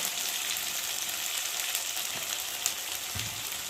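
Masala frying for a country chicken curry, a steady close sizzle and crackle in a pan with a soft stir scrape near the end.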